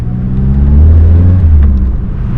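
A 1985 Mazda 323 with no power steering drives slowly around the block, its engine giving a steady, close, low rumble with a mild rise in revs and no talking.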